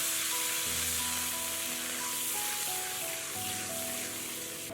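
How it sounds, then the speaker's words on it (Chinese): Loud, steady sizzling as water is poured into a hot pot of oil and garlic chili sauce, the bubbling hiss running continuously throughout with no voices. "往锅内倒入1小碗的清水"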